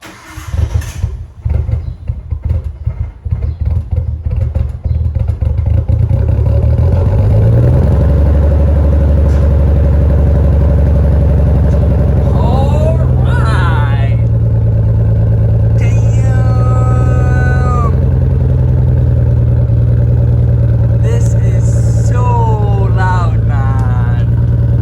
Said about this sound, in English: Let's start the car. It's a cold start and I'm super excited.